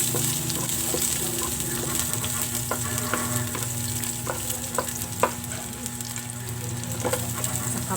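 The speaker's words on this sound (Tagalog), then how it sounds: "lulutuin ngayon sa mainit na wok igisa natin" Chicken adobo ingredients sauté in a hot wok, a continuous loud sizzle with scattered sharp clicks and scrapes of stirring throughout, no voices.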